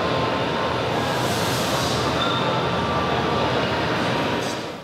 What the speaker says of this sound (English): this train that we're sitting in. 1938 it was brought into service